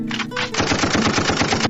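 Rapid automatic gunfire rattles in a fast, even burst after a couple of opening shots, loud and close.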